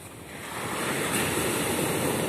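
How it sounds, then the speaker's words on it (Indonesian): Large ocean waves break on a beach at Tanjung Patok, a loud, broad roaring wash that swells and holds steady, heard close with wind and no talking. "Ombaknya sangat besar"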